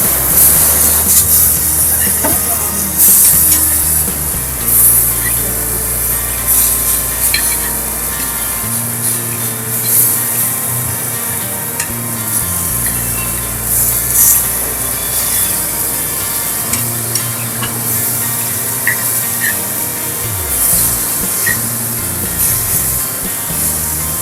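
Sliced elephant foot yam sautéing in oil in a pan, a steady loud sizzle and hiss that continues throughout with small fluctuations and occasional crackles, no talking.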